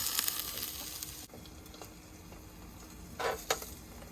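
Salmon burgers and sweet potato fries sizzle in a pan, a soft steady frying hiss with brief louder crackles and spatters near the end, heard close up and without speech.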